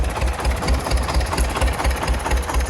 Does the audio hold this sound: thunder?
no